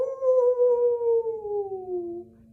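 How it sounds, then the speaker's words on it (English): A single long howl from wolves glides slowly downward in pitch and fades after about two seconds, with a low rumble underneath and no talking. "Then the wolves began to howl."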